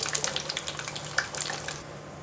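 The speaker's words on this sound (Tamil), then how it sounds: "ஆனால் நான் எண்ணெயிலேயே பொரித்து போடுறேன்." Cashew nuts frying in hot oil for boondi laddu, a steady soft crackle and bubbling with scattered brighter pops over a low constant hum, fairly quiet and close, then fading to a calmer fizz near the end.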